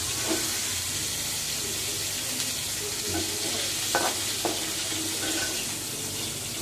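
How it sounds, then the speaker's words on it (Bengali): Korean-style sauce cooking in leftover crab-frying oil, a dense continuous hiss and sizzle close up, with a few soft utensil clinks and taps scattered through it. "এই তেলের ভিতরেই আমরা সসটা তৈরি করে ফেলবো সেই বিখ্যাত কোরিয়ান সস"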